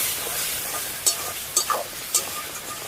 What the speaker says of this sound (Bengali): ধনে গুঁড়ো, হলুদ আর লবণ, একটু জল দিয়ে মশলাটা ভালো করে কষে নেবো।